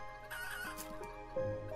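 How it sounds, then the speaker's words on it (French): Chickens cluck in the video game Planet Centauri, a short run of close, game-sound clucks and squawks over steady background music, with a louder cluck near the end. "Non, les poules, revenez!"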